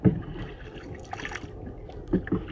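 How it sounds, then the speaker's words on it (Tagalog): Paddle strokes from a small fishing boat on a quiet sea, soft splashes and water swishes repeating in an uneven rhythm close by, with no voices. "napakatahimik dito tabi sa laot marinig ko lang yung pagsagwa ni Alvin"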